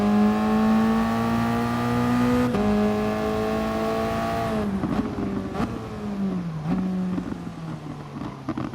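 A Toyota race car in a sim racing game at the Red Bull Ring holds a loud, high engine whine, then goes through a series of aggressive downshifts with sharp rev blips as the pitch steps down.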